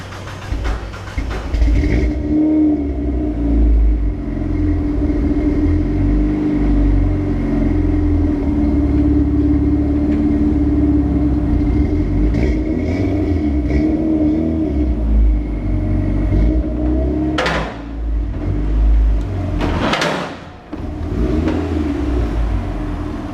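A car with a newly fitted radiator is out on a test drive, its engine humming and rumbling steadily from close by, with a couple of brief sharp rises in pitch near the end.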